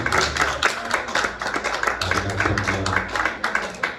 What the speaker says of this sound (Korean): 박수 한번 주시고요